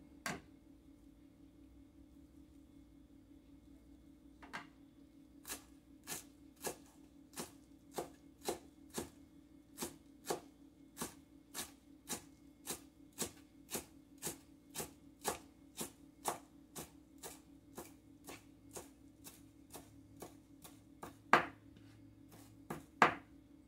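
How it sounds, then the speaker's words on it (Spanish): A knife chops tomato, onion and cilantro on a board for salsa in a steady run of sharp, close taps, sparse at first, then quickening into an even rhythm, with a couple of louder knocks near the end and no talking. "Ya partí tomate, cebolla y cilantro"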